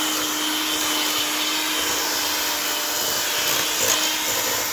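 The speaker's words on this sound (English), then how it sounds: "We're going to beat this for just a few minutes so it's nice and creamy." An electric mixer beats apple cake batter made with oil and vanilla, giving a steady, continuous motor whir that runs unbroken at an even level, with a slight swell near the end and no talking.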